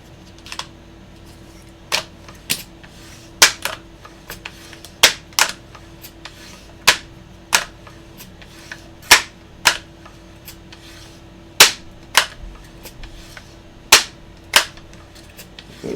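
A Nopro Air toy air gun fires repeatedly at a target, about twenty sharp, close snaps at uneven intervals of roughly half a second to a second over a quiet background.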